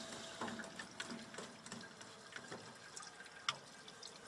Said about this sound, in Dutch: En zo loopt al het water uit de warmtepomp.